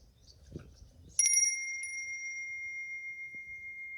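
A Hindu priest's genta, the brass ritual hand bell, struck once after some soft handling noise, ringing out with a bright, clear tone that sustains and slowly fades with a gentle pulsing shimmer.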